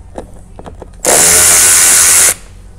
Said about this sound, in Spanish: Igual quitamos este tornillo.